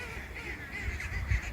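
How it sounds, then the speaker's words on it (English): A flock of geese and ducks on a small dam lake near a little town in Portugal honks and calls continuously at moderate distance. "A whole bunch of geese and ducks."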